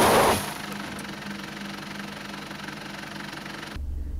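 A car engine runs steadily while driving, a continuous low drone and hum heard close from inside the vehicle, with a brief louder burst at the start and a shift near the end.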